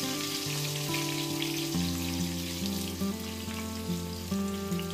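Three large chopped onions frying in a pressure cooker for vegetable biryani give a constant sizzling hiss, partly covered by louder steady music playing over it.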